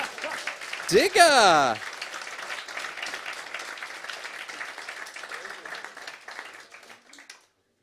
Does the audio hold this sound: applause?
yes